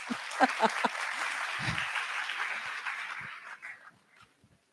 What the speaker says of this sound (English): I ask for a big round of applause for yourself